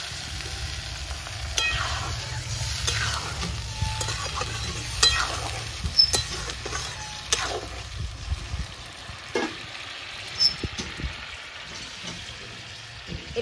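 Spices sizzle and fry in a pan after a splash of water while cooking a doi potol (pointed gourd in yogurt) curry, giving a steady soft crackle with occasional stirring scrapes and small pops, close and moderately quiet.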